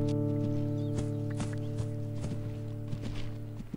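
A stallion's hooves walk in a video game, a steady series of dull clip-clop thuds over a constant droning hum in the background.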